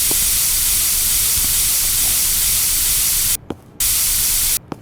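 Aerosol spray can hissing in Internet Cafe Simulator 2, a loud steady close hiss that runs continuously and cuts out twice in brief gaps near the end.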